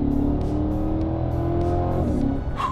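A Chevrolet Corvette C8 accelerates hard, its engine note climbing loud and close through the revs with a brief shift near the end, heard from inside the car without talk.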